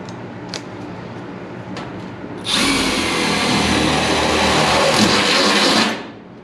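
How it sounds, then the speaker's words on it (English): A power drill bores a quick hole near a 3M filter. After a quiet stretch, a loud, steady high whine runs for about three and a half seconds, then cuts off. "drill a quick hole there."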